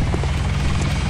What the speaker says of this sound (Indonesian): Itu helikopter penyelamat sudah datang.